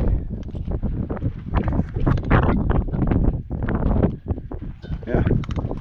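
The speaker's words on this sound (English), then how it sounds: "And it's windy again today." Gusty spring wind buffets the microphone in heavy bursts on a construction site, with a voice talking underneath the rumble.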